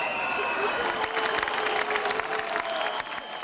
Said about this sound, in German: Das durchwegs junge und neue Burgtheaterpublikum, durchmischt mit Prominenz, tobt vor Begeisterung.